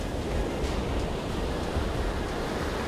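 Waves wash onto a long white-sand beach in Hawaii, a steady broadband roar of surf with no distinct breaks, close and constant throughout.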